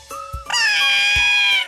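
A single drawn-out cat meow from an animated children's show, loud and close, rising then holding steady before fading, with a short chirp just before it.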